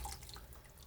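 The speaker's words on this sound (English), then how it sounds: "we're going to rinse the pot out, put some fresh water in" Tap water running steadily into a pot being rinsed and refilled for cooking purple-top turnips, a continuous close splashing hiss with a few drips.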